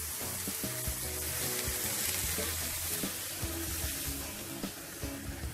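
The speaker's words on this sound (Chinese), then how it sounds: "再加入一次滚水" Boiling water poured into a pot of frying fish scraps for tomato fish soup, giving a steady close sizzle and bubbling hiss that slowly eases, with faint clinks and stirring.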